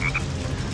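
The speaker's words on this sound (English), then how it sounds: "here's our green frog" A green frog in the video game Sonic Heroes gives a short croak, two quick close calls over steady game background sound, with no talking.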